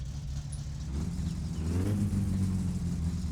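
A car engine in the video game My Summer Car idles unevenly at too low RPM with a misadjusted distributor and fuel mixture, a close low rumble that rises slightly midway.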